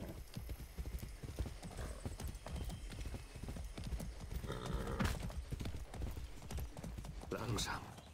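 Horse hooves clip-clopping steadily as a horse is ridden in the video game Far Cry 6, with a whinny, dense game sound and voices talking over it.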